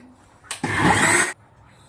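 A mixer grinder grinding batter whirs loudly for under a second of steady grinding, starting abruptly and stopping just as suddenly, with brief quiet before and after.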